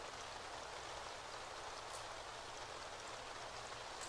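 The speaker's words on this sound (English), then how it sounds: "It's raining. I hear it." Rain falling outside, a steady, even hiss of drops with no breaks, soft and fairly distant, with no voices.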